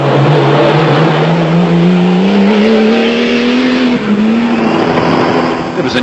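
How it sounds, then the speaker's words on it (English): An off-road race vehicle in the 1996 Toyota 1000 desert race charges through a riverbed, its engine loud and close, revving in a steady rising drone that briefly dips and climbs again, with no talk. "It was with an almost win-or-nothing attitude that Coetzee tackled the riverbed for the last time."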